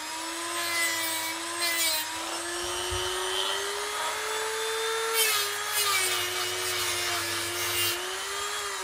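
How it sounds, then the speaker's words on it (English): An angle grinder works steadily on the rivet head of a Brooks B66 leather bicycle saddle, giving a continuous high whine with slight pitch wander and a few rougher bursts, heard close and alone. "After a bit of angle grinding, which went quicker than expected, I got the head removed with some damage"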